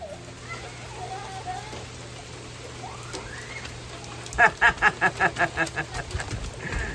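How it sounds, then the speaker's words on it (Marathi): Heavy rain hissing steadily throughout at a campsite in Tobermory, Canada, joined midway by a burst of rhythmic, evenly spaced tapping pulses that fade toward the end. "चांगला जोरात पाऊस चालू झाला आणखीन."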